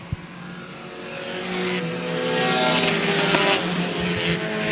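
Race cars circle Airborne Speedway in 2009, their engine roar building as the pack comes off turn 2, loud and continuous with overlapping motor tones that swell toward the end of the pass.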